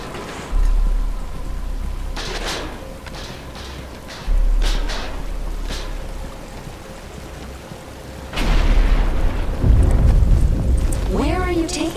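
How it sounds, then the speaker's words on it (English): Rain falling in Batman: Arkham Asylum, a steady wash beneath the other game sound, swelling heavier and louder over the last few seconds, with low rumbles and voices nearby. "But it's starting to rain"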